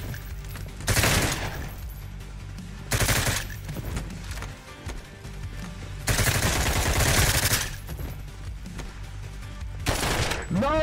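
Gunfire in Intravenous 2, several loud bursts of rapid automatic shots separated by short pauses, close and sharp over a quieter game background.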